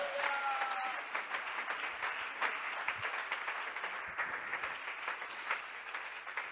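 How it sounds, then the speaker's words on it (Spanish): Church congregation applauding during a Spanish-language sermon, a dense, steady wash of many hands clapping at moderate distance that fills the whole stretch with faint voices mixed in. "Dele ese aplauso al Rey de Gloria."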